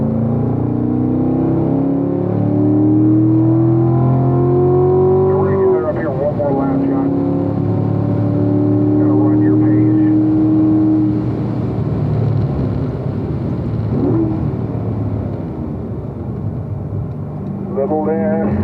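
A Corvette race car engine on a track drives a loud, steady roar that climbs in pitch through the gears, drops with a shift, and pulls again, heard from inside the car with a voice speaking over it throughout.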